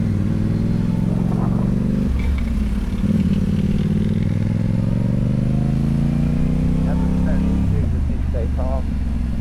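A motorbike engine on a road holds a steady revving drone throughout, rising in pitch as the rider pulls off, with a brief rev around the middle and a gear change near the end, loud and close.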